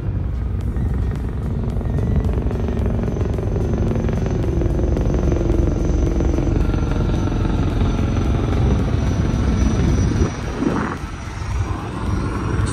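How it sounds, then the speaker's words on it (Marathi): Navy helicopter flying overhead near a naval station during a Navy Day exercise, heard as a loud, steady rotor and engine roar lasting throughout, with a fluttering beat and a brief change in tone near the end. "हे आत्ता परत एक आलं इकडनं एक हेलिकॉप्टर"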